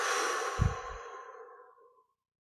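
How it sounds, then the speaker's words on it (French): A single slow, breathy exhale during a guided breathing exercise, fading gradually to silence over about two seconds, close and soft. "On relâche et on expire."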